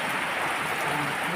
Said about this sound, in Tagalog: So, dito sa amin, lakas talaga ng ulan.